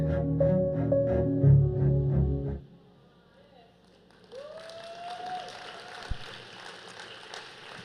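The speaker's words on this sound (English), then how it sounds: "I'm gonna have to be reclaiming my time if y'all are gonna be applauding in between my slides." Audience applause at a Netroots Nation keynote event: a loud crowd clapping for a couple of seconds, cutting off abruptly, followed by quieter room sound and a speaker's voice.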